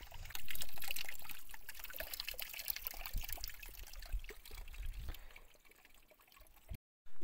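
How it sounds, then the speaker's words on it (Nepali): Water pours steadily from a mountain water tap along a high trekking trail in the Jumla–Dorpatan hills, a continuous near splashing trickle with no talk, ending in a short break. "हामी चाहिँ अब पानीको धारामा पुगिसकेका छौं"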